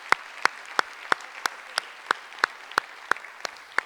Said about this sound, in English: So Vivian, we should give Vivian a round of applause